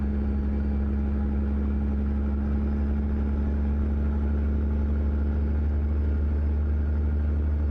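A Kenworth W900 truck engine in American Truck Simulator drones heavily on a slippery Alaskan road under light, varying throttle, a loud steady low-pitched rumble with a strong tonal hum and no talking.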